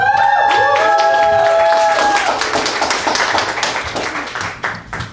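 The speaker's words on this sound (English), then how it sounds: "So please give a round of applause to my friend, Nikki." Audience applause and clapping at a comedy show in a Bushwick venue, a dense burst of many hands rising under a brief tonal chime at the start, then gradually thinning out over several seconds.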